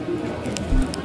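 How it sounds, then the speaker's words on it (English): Pigeons at a beach give a single short, low coo near the end of a brief outdoor moment, set against soft background ambience. "pigeons. More birds."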